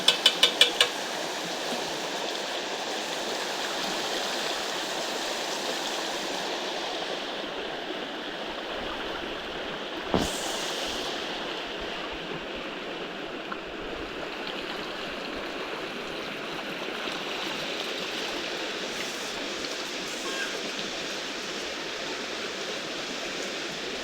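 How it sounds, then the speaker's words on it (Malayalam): River water flows steadily as something is washed in it, giving a soft, even, continuous rush with a single sharp knock partway through and no talking. "പുഴയിലേക്ക് പോയിട്ട് ഞാൻ കഴുകിയിട്ട് വരാം."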